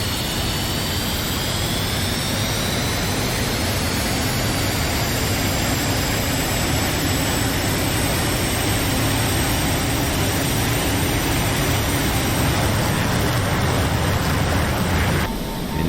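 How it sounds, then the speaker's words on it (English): An F-5E Tiger II jet engine roars loud and steady at full afterburner in the DCS flight simulator, a dense, unbroken rumble with a thin whine running across it, cutting off abruptly at the end. "We're going to go to full afterburner"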